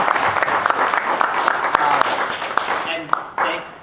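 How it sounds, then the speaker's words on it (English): Audience applause for two panelists at a panel discussion for sales engineers, a short burst of mixed clapping with a few sharper individual claps standing out, tailing off after a few seconds. "I wanted to give a huge shout out and round of applause to you two."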